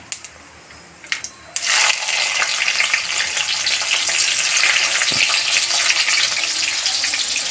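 Green chillies and chopped onion dropped into hot oil seasoned with bay leaves, shahi jeera and mustard seeds, a few quick taps before a sudden loud, steady sizzle that carries on unbroken.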